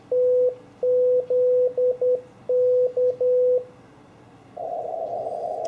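Morse code CW sidetone from an Elecraft KX3 radio, steady clear beeps of dots and dashes sent in a short run. A soft hiss of band noise follows the keyed tones, with no voices.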